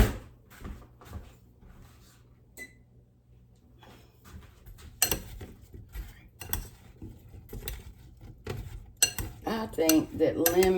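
Metal cutlery clatters and clinks as a drawer of utensils is rummaged for a spoon in a home kitchen during bread pudding prep, with irregular bursts of jangling, some knocks, and faint background noise.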